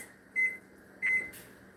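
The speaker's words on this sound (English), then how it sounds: "I'm going to set the timer for 30 minutes" Two short electronic beeps from an oven timer being set, one near the start and one about half a second later, steady tones over a faint background hum with no talk.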